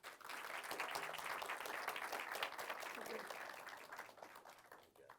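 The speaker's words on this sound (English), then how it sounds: "let's welcome Mayor Valdez-Fowley and Harry with a round of applause." An audience welcomes Mayor Valdez-Fowley and Harry to an innovation council program with a round of applause, faint and distant, swelling in quickly and fading gradually near the end.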